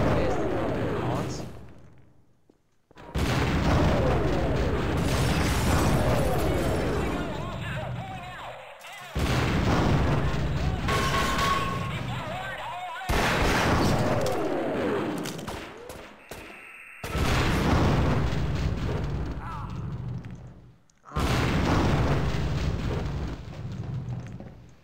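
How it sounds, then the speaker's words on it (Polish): Repeated loud explosions in the video game Half-Life: Source, several heavy booming bursts with rumbling tails separated by short silent gaps, with someone talking at times. "Ech, te wybuchy."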